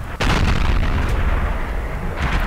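An Obj. 261 tank cannon shell strikes the ground in a tank video game, a loud booming impact whose dense rumble holds and rolls on for a couple of seconds without fading.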